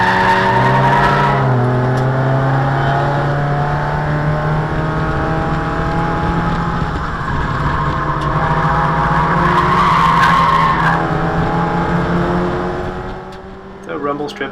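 A race car at Thunderhill West runs over a rumble strip at speed, with a loud sustained engine drone, tyre noise and a rapid buzzing rumble lasting several seconds before it eases off.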